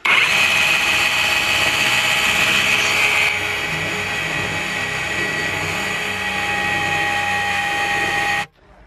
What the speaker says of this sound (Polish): Będę wiercił przez taką blachę o grubości 6 mm.